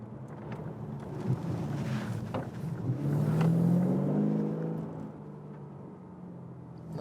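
Lexus RC F with a 5.0-litre V8 under light throttle, a low, smooth engine hum that swells gently in the middle and eases back, heard from inside the car without talk.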